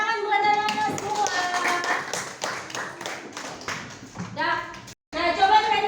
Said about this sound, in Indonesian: tepuk tangan buat anak-anak semua